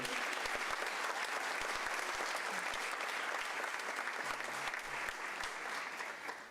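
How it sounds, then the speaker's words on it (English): Sustained applause from a high school ceremony audience, dense steady clapping from many hands filling the room, slightly fading toward the end with faint voices underneath. "Yeah, you can clap for that too."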